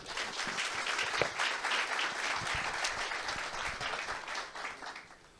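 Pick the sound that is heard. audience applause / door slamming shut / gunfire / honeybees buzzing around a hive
audience applause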